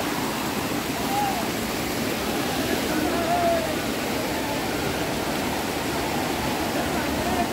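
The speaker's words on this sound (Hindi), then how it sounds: "देखो वो है सामने झरना अपन देखा था" Chingra Pagar waterfall in Gariyaband, Chhattisgarh, heard as a constant broadband rush of falling water, steady and moderately loud, with faint background voices.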